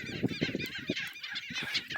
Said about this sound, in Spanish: es pato. Todo pato.